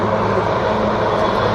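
Sea King 42B navy helicopter coming in to land during an Indian Navy operational demonstration at Sindhudurg fort, a loud, steady rotor and engine roar filling the whole stretch with no break.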